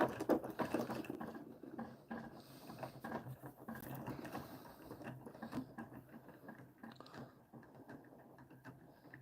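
Spinning stator of a homemade counter rotating pulse motor with 120° wedge coils at 24 V, a quiet rapid mechanical pattering and clicking whir that runs continuously, close and faint, with no talking.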